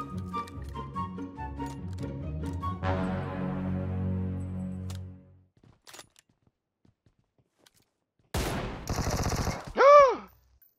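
Rapid bursts of gunfire crackle at the start in PUBG Mobile, then silence, followed by another short burst of shots and a ringing tone.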